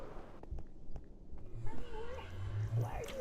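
A cat meows in Minecraft, with several short game mews and a low purring tone, fairly close and without speech.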